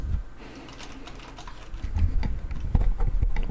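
Keyboard tapping on Cherry Red switches, a run of close, crisp key clicks that grows louder and busier toward the end, heard alone with no talk.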